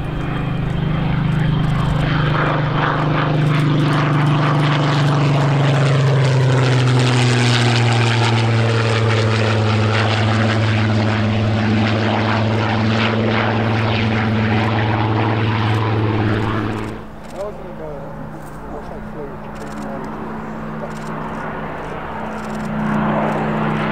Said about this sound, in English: Just for a pass, the pilots salute to you from the cockpit, low down the line in this very mean-looking Griffon Spitfire.